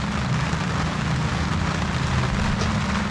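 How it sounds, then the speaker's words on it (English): Rain falls in a steady, dense hiss that stays even and fairly loud throughout, with no voices over it. "Rain."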